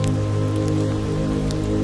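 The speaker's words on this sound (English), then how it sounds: "The rain suits this place" Steady rain pattering on surfaces in Edinburgh, a dense continuous hiss with scattered close drips, heard alone with no voices.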